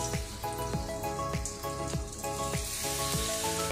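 Raw banana slices coated in masala sizzle steadily in hot oil on a dosa tava, a dense, continuous crackle with no voices.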